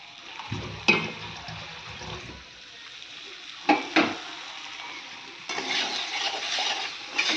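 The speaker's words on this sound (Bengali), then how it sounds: "এবার একটু কষিয়ে নেব" Curry of taro and potato being sautéed and stirred in a pan, with a few sharp spoon scrapes and a soft sizzle that swells louder near the end, no talking.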